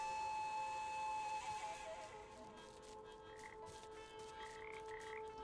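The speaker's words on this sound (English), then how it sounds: "More frogs." Frogs croaking in the game Papo & Yo, several short warbling croaks in the latter half over a steady tonal hum and background ambience, fairly faint and spaced apart.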